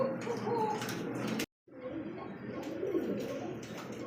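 At a pigeon market, pigeons coo in soft, low, rolling calls that overlap close by, broken by a brief moment of silence before the cooing resumes, with faint voices mixed in.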